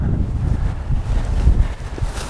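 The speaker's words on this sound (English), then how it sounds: "Back into the wind." Wind blows across an open golf course, a steady low rumbling buffet against the microphone that lasts the whole moment with no talking.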